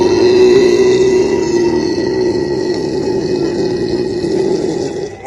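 A long, loud, deep burp follows a drink of Sprite during a burping challenge, rumbling continuously for about five seconds close to the mic.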